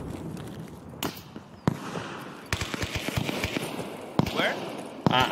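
Grenade blast and crackling gunfire in Escape from Tarkov, several sharp bangs spread across the moment with quieter rattling shots in between, heard amid player chatter.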